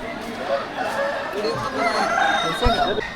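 Several roosters crow and cluck amid a noisy crowd at the rooster market of Gidam bazaar in Bastar, Chhattisgarh, India, where cockfights are held, with people talking and chattering throughout.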